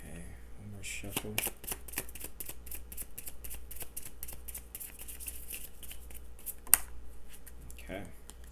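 Tarot cards being shuffled by hand, a steady run of quick papery riffles and flicks lasting several seconds with a brief sharp snap near the end, close and fairly quiet.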